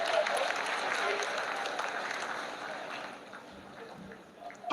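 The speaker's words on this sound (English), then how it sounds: "आप तालियों के गड़गड़ाहट से सुन सकते हैं" Applause fills mission control as Chandrayaan-3 enters its vertical descent toward the moon, a dense, steady wash of clapping that stays loud before thinning slightly near the end, with voices mixed in.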